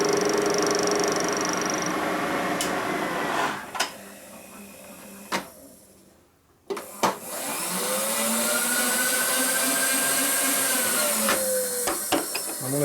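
A milling cutter climb-cuts a part for a 1941 Harley WLD 45 flathead stroker motor, a steady machine whine that drops away briefly, then resumes with a few sharp clicks and knocks.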